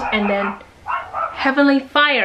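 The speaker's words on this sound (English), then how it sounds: "That is my dog." A pet dog barks indoors in a few short bursts near the end, mixed in with someone talking steadily over it.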